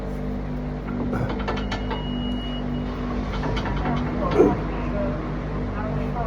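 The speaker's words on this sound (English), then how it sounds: "So I'm taking the caliper off now." Metal clicks, ratcheting and clanks from tools working on a car's brake caliper, close and intermittent over a steady low hum, with a louder knock near the end while someone talks.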